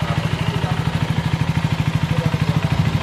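A CF Moto 300SR motorcycle engine running steadily at idle up close, its rapid even pulsing thrum continuous throughout with no talk over it.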